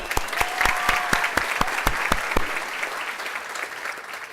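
Scattered hands clap at a diaspora community awards ceremony honoring students, sharp individual claps bunched at first, then thinning and fading after a couple of seconds over a soft room murmur.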